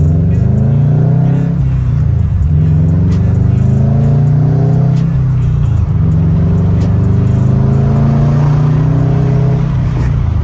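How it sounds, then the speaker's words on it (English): A 2018 Subaru STI engine drones loudly and steadily while driving, with a low rough grinding whine from a faulty transmission rising and falling under it and no voices. "Either way, the transmission grinds pretty bad."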